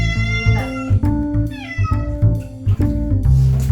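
Several cats yowl loudly and continuously during a group bath, their drawn-out wavering cries overlapping, close up, with brief thumps and splashing-like noises between calls.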